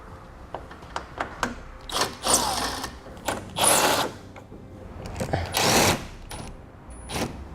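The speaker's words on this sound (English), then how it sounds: "We'll do that by removing the 4 7mm fasteners on each headlight like this one that hold them in place." Power tool removing 7mm headlight fasteners on a 2017 Chevrolet, in several short whirring bursts with pauses and clicks between them, close and fairly loud.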